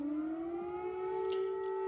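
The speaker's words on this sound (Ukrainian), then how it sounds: "о, бачите, повітряна тривога." Civil defense air raid siren wailing in Ukraine, a steady rising tone with strong harmonics that holds loud and continuous throughout, with no voices over it.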